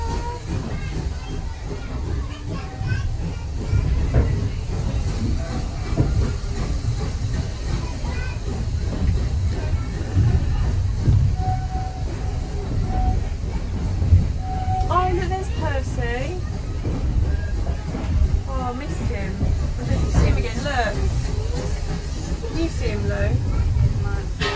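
Steam locomotive styled as Thomas the Tank Engine on a heritage railway ride, rumbling and hissing steadily throughout, with voices of passengers and children talking over it.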